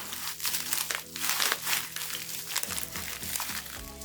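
Steady crinkling of a plastic bag holding coins, close and fairly loud, with rustling bursts that rise and fall over several seconds.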